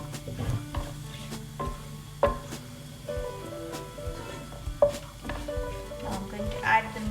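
About half a cup of hot oil with spices, the same oil used to fry onions, sizzles in a kadahi ahead of the lamb, with a crackling fry under frequent metallic stirring clinks and ringing taps.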